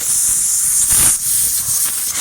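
Compressed air from a compressor hisses in a steady loud rush during dirt bike repair work, with a brief swell partway through and no talk.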